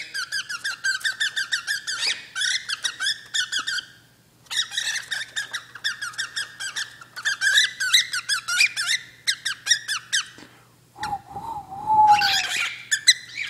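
A pet bird throwing a fit, squeaking and calling in rapid repeated bursts with brief pauses, loud and close, ending in a lower harsher call near the end.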